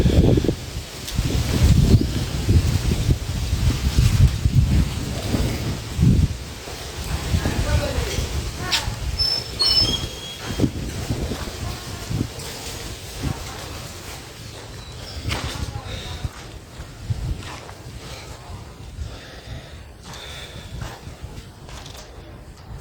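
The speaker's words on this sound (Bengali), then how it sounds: "এই যে গ্রামে দেখেন ঝড় বৃষ্টি শুরু হয়ে গেছে" Gusty wind sweeps through a village as a storm with rain sets in, a steady rushing roar with rustling, under a person talking throughout.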